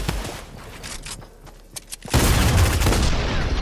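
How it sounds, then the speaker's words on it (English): Rapid automatic fire from the drum gun in the Fortnite video game bursts in after two seconds of quieter game sounds and scattered shots, a loud, dense, continuous volley that holds to the end. "He's got the drum gun."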